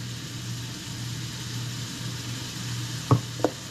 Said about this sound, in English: All right, they are sizzling.